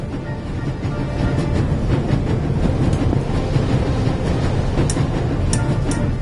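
Inside a train running at full speed in the game The Raven, a steady low rumble and rattle rolls on without a break, with faint metallic clicks and squeals over it and no voices.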